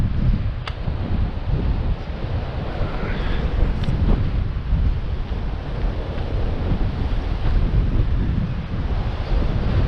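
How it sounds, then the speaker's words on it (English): Strong wind buffets the microphone with a continuous low roar, gusting slightly, with faint water or surf noise underneath. "Very windy day."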